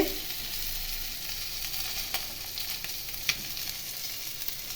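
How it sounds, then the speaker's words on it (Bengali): Whole five-spice and dried red chillies sizzle in hot oil left from frying rohu fish, a steady close crackle with a few sharper pops and no talk. "পাঁচ ফোড়ন এবং শুকনো লঙ্কা দিলাম"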